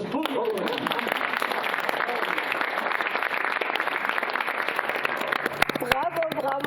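Studio audience applauding at a television show, steady dense clapping that holds throughout, with a voice speaking over it near the end.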